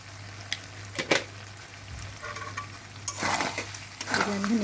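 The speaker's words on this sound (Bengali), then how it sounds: "আমি নেড়ে চেড়ে আর একটু কষিয়ে নিব" Beef tripe frying with spices in a pan while being stirred, quiet sizzling under intermittent scraping and clinks of a spoon against the pan, with a low steady hum in the background.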